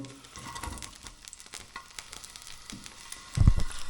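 Garlic and onion sizzling in a generous pour of olive oil over moderate heat, a steady close crackle with a louder thump from the pan near the end.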